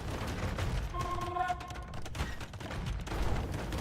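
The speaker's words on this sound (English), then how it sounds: "So cannons again taking out the castle." Cannons fire at a castle in a real-time strategy game, a rapid cluster of booming shots over a steady bed of battle noise, with faint commentary underneath.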